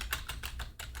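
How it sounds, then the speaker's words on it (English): Rapid keystrokes on a computer keyboard, clustered in short bursts of clicks close to the microphone over a low steady hum. "Oh, the typing is probably very loud."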